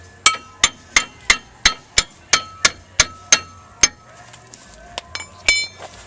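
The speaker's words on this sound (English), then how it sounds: "Where's that little hammer?" A small hammer taps metal brake parts while a bolt is worked on during a brake job on an Infiniti G20, giving about a dozen sharp, ringing, evenly spaced blows followed by a few lighter, irregular knocks.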